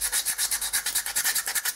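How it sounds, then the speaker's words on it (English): Hand sanding with P80 grit paper scrubs back and forth in quick, even strokes, about sixteen close rasping passes in a steady rhythm with no talking. "I've probably got about a week's worth of sanding this"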